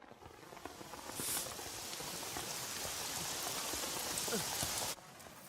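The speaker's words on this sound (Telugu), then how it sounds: "వర్షం పడుతుందమ్మా." Steady rain pours in a scene from the Telugu comedy film Varsham, a dense, even hiss that swells slightly early on and continues throughout before cutting off abruptly near the end.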